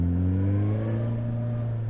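A Suzuki GSX-S1000 motorcycle engine revs with the clutch slightly out while standing still, giving a steady, close, loud droning hum with strong low harmonics that holds for about two seconds.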